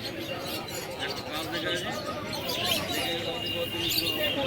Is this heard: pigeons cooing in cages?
yes